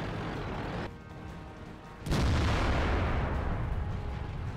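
A tank cannon fires in World of Tanks, with a single sharp, loud blast at mid-clip followed by a broad rumbling roar that lingers to the end.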